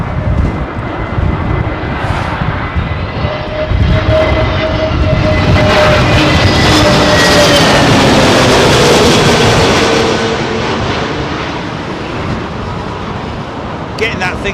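Airliner of about 60 tons landing on runway 27L at windy London Heathrow, passing overhead as a loud swelling engine roar with a whining tone that peaks midway, then fades under gusty wind.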